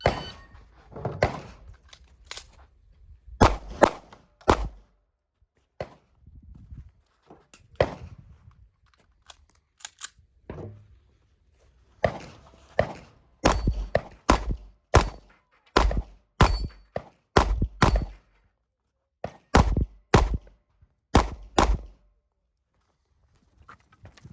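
A Sig M11A1 pistol fires on a shooting range: sharp, close reports come singly and in quick clusters with short pauses between strings, with faint voices in the gaps.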